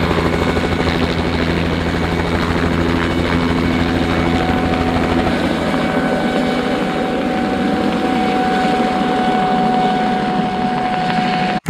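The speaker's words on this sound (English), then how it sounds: "Oh, the helicopter's taking off." Helicopter taking off in Qaqortoq, Greenland, a steady loud rotor and turbine roar with a strong low thudding pulse that eases slightly partway through, continuous and close with no talk.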